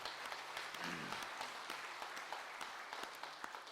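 A church congregation at a Sunday worship service applauds together, a steady wash of clapping that holds at a fairly quiet, even level throughout, with a faint voice briefly audible early on.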